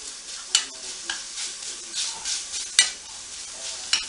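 Breakfast sausage browning in a pan for biscuits and gravy, a steady close sizzle punctuated by repeated spatula scrapes and a few sharp clacks against the pan.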